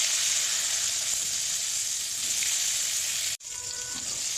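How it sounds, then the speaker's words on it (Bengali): Eggplant slices rubbed with salt and turmeric fry in hot mustard oil in a wok, giving a steady, close sizzle that holds evenly and briefly cuts out just before the end. "এখন এই বেগুনগুলো ভেজে নেব"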